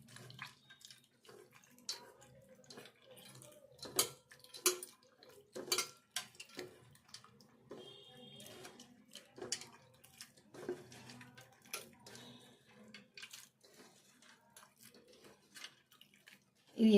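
Tamarind being rinsed and soaked in water in a kitchen while making horse gram rasam: intermittent splashing, dripping and clinks of a bowl, with a tap running at moments, close and moderately quiet.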